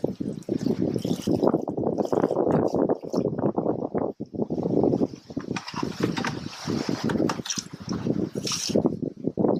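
Water is poured onto a compost heap, a steady rushing, splashing stream that runs nearly continuously, loud and close with brief dips in flow.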